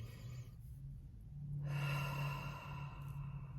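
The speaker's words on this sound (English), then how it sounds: "Take a deep breath." A slow, deep belly breath drawn in and let out during a relaxed mindfulness exercise, audible alone as a soft, airy rush that swells for a couple of seconds and then fades.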